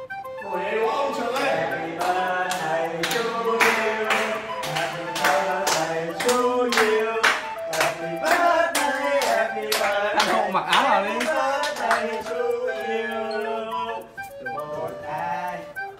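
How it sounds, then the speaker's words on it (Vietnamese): Football fans at Old Trafford during a Manchester United versus Arsenal match applaud Arsène Wenger, a sustained ripple of crowd clapping mixed with cheering voices and broadcast audio. "Các cổ động viên ở Old Trafford cũng đã dành những tràng vỗ tay cho giáo sư."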